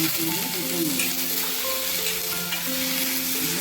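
Pumpkin and spices, including turmeric, frying in oil in a pan, a continuous loud hiss of sizzling with faint tonal sounds underneath, with no talk.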